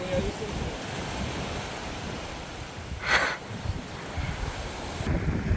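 Ocean waves off the beach of Bwedu village in Sierra Leone, a continuous rushing surf wash with wind buffeting the microphone and one louder surge midway.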